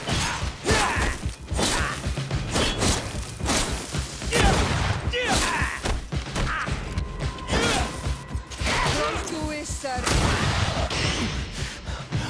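Gunfire and a grenade blast in the video game GreedFall: dense, continuous volleys of shots and heavy booms fill the whole stretch, loud and busy, with game voices mixed underneath.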